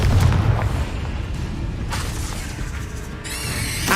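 A Confringo blast spell from the Hogwarts Legacy video game goes off as a loud, deep explosive boom. It rumbles on, and further bursts and crackles follow later, with no voices.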